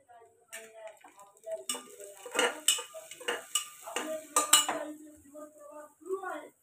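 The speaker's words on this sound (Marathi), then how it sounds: "हे एक मिरची उभी चिरून टाकतो" A knife slits a green chili lengthwise on a board, giving a series of crisp, close taps and clicks at an uneven rhythm, while a voice talks softly underneath.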